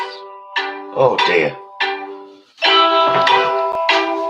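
A mobile phone rings during a live drag makeup session, its tonal ringtone repeating in bursts with short gaps, loud and close, while a person speaks briefly between the rings.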